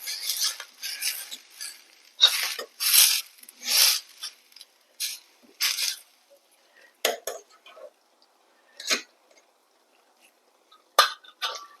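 A spoon stirs flour into boiling water in a cooking pot for traditional ila ada dough, making a close, intermittent run of metallic scrapes and clinks separated by quiet pauses.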